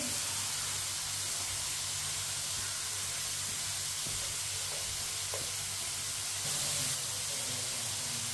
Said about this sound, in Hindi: ऑयल को मैंने गर्म कर लिया। ग्राइंड की हुई गाजरें डाल लेंगे।